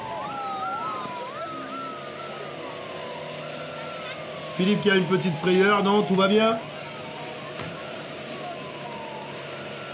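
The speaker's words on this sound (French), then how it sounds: "Ah, c'est une voiture. On l'entend" A car engine drones in the background at a stage of the Tour de Guadeloupe cycling race, its pitch rising and falling as it passes, while a person speaks briefly over it midway.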